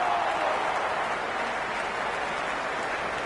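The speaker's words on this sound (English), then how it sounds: "It's the most enthusiastic crowd you could ever see right now." A cheering cricket crowd in the Cricket 26 video game gives a steady, dense roar with no breaks.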